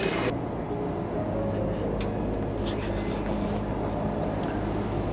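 Steady low rumble of a moving train heading into Brussels, heard from inside a carriage, with continuous rolling noise and faint background voices.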